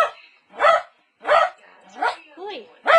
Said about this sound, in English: Maestro, be quiet for Puppy